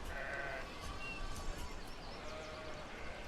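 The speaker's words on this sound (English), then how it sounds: "Sheep, we're up to 31 sheep" Sheep bleating in the city-building video game Banished, a faint wavering bleat and a few thin calls buried in a steady wash of ambient game noise.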